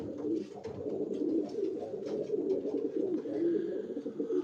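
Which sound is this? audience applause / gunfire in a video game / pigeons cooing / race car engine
pigeons cooing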